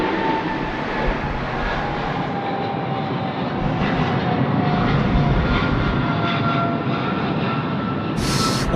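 An Emirates airliner takes off from Sydney Airport, its jet engines giving a steady, loud, broad roar that holds throughout with a faint whine on top.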